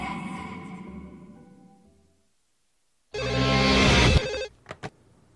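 A phone rings in the Wii game No More Heroes: after a fading musical passage and a moment of silence, a loud electronic ringtone bursts in for about a second, followed by two short blips.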